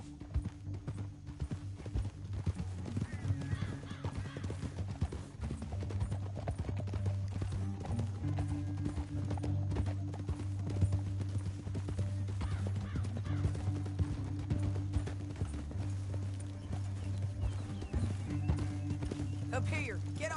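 Steady, rhythmic horse hoofbeats clip-clop throughout in Red Dead Redemption 2, with a low droning backdrop and occasional voices underneath.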